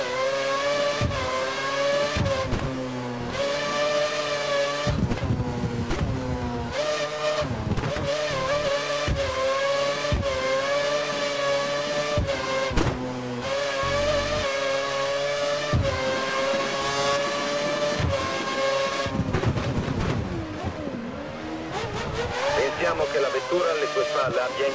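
F1 race car engines scream at the Hungaroring in F1 2013, loud and continuous, rising and falling through gear shifts with sharp drops and revving climbs throughout.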